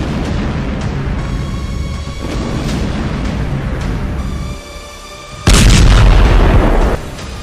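During Israeli strikes in Lebanon, a rumbling, roaring background gives way to one loud, close blast that lasts over a second before dropping back.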